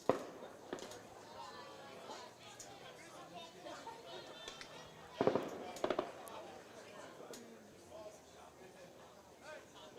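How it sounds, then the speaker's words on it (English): Fireworks pop and crackle in scattered bursts near a 2023 American Legion baseball game, faint and distant under crowd chatter, with a clustered volley of cracks in the middle. "Not sure where the fireworks are coming from."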